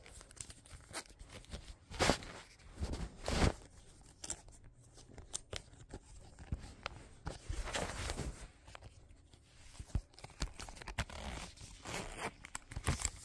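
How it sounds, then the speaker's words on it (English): A Care Bear Loungefly wallet is handled and unzipped as its zipper runs around the edge, with scattered rasping pulls and crinkly handling noises close by, no talk. "It zippers all the way around."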